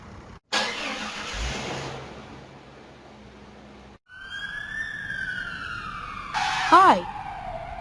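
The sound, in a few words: ambulance siren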